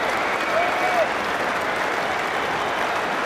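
Cricket crowd at Lord's during an England versus Australia Test, applauding steadily as a player leaves the field, a broad wash of clapping with a commentator's voice over it.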